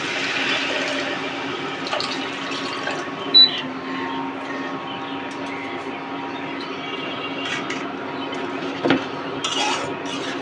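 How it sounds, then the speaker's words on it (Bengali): Water is poured into a pan of braised Rui fish for a Bengali curry, a soft trickling splash mixed with faint clinks of pots and utensils, with two sharper knocks along the way. "এখন মাছের ঝোলের জন্য পানি দিয়ে দিব।"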